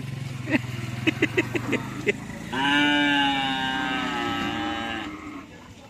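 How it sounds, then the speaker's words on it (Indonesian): A cow moos loudly in a long, drawn-out call at karapan sapi bull race practice in Pamekasan, preceded by a run of short clattering knocks and a low engine-like drone. "Suasana latihan karapan sapi kali ini guys"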